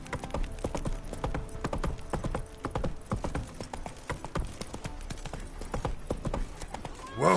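Horse hooves clop rapidly and steadily in The Witcher 3 video game, a rider's mount galloping throughout, with a neigh rising at the very end.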